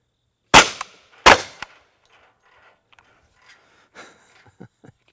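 Two sharp, loud gunshots from a KRISS Vector chambered in 10mm Auto with a red dot sight, about a second apart, followed by faint clicks and handling noises in near silence.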